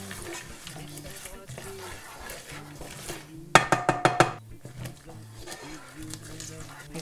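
Mustard seeds and peanuts roast in a very hot pan, with a quick burst of five sharp popping cracks standing out over background clatter and a speaking voice.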